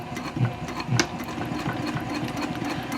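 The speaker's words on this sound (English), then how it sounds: "I'm just going to take a few stitches forward" A domestic sewing machine stitches a bag handle in place on a Frankie handbag tote, running in short rapid bursts forward then back, with a couple of louder clunks early on, close and steady.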